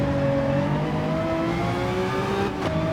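A race car engine in Gran Turismo 7 revs high and whiny, its pitch climbing steadily before a brief gear change and a renewed climb, loud and close with no talk.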